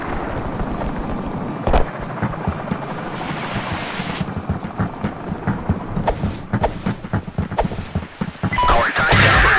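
A helicopter in the military shooter game Shadow Company roars nearby with a heavy rotor rumble and wind-like rush, louder bursts and sharp impacts breaking in toward the end.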